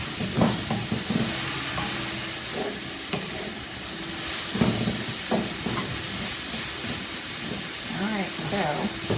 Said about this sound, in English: you only need to let all of your vegetables saute for about a minute or 2